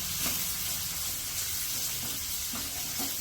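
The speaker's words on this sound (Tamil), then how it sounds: "இது நல்லா ப்ரௌனிஷாக ஆகிற வரைக்கும் வதக்கி விடுங்க." Sliced onions sautéing in a pan for onion chutney, a continuous soft hiss of frying with a few faint stirring scrapes, close and without talk.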